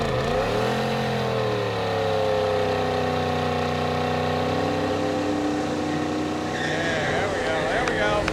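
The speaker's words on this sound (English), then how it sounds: "second gear burnout" A Trans Am's engine screams at high revs during a second gear burnout, a loud, sustained whine rising and falling in pitch over a steady roar, with people talking over it.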